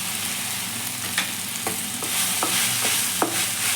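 Chicken dry fry with a teaspoon of soy sauce is stirred in a hot pan. The frying sizzles steadily while a spatula scrapes and knocks against the pan in a loose, repeated rhythm, close and fairly loud, with no talking.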